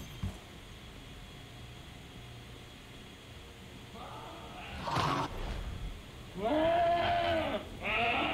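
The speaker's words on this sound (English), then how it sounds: "Make these goats bleat their last!" Goats bleat in Diablo Immortal, a few wavering cries arriving near the end over a low ambient game hum, the last ones loudest and closest.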